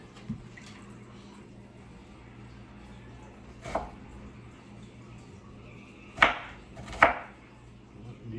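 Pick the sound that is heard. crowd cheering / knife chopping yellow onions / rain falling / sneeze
knife chopping yellow onions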